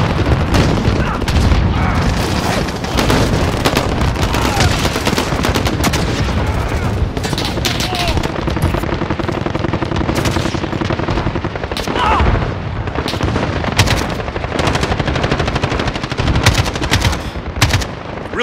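Call of Duty: Warzone gunfire rattles nonstop in close, loud machine-gun bursts mixed with heavier booms, with brief voice callouts under the shooting.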